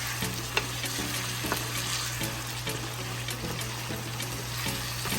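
Saltfish and ackee sizzle in a frying pan while being stirred slowly, a close steady frying hiss with soft scraping strokes of the spoon and faint background hum, no voices.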